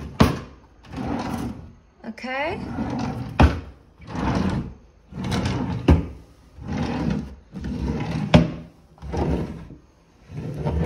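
Kitchen drawers holding cutlery in a rented one-bedroom Lisbon apartment slide open and shut in a steady series of rumbling pushes and pulls, each ending in a soft knock, with a brief spoken word partway through.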